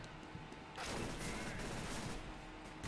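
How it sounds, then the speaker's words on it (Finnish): Rapid bursts of gunfire from a weapon in CS:GO crackle in quick succession, a dense volley starting partway in and continuing, fairly faint overall. "Kuulteko tätä aseääni?"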